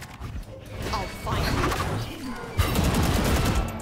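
Gunfire in the Valorant video game: close, rapid bursts of shots crackle through a busy mix of game sounds, with people talking over the action and a sharper burst partway through.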